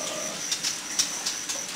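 Repeated short, high magpie robin calls ring out over a steady hiss of ambient noise, several notes in a loose rhythm.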